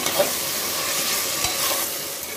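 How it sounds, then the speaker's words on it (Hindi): Sliced onion and grated ginger fry in a pan for a mutton biryani, a steady close sizzle with stirring, broadband hiss filling the clip and a couple of brief scraping knocks. "3 से 4 मिनट के लिए अच्छे से फ्राई करेंगे।"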